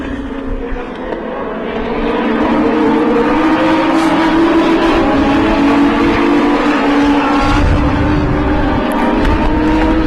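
US Legend race cars racing at Thompson Speedway, a pack of engines droning and rising in pitch as they pass the trackside spot, loud and steady with no talk.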